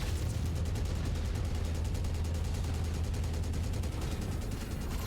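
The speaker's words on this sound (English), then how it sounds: "Incoming missile." Missile fire and impacts during a MechWarrior battle: a dense, continuous barrage of rapid repeating bursts over a deep rumbling roar, loud and unbroken throughout.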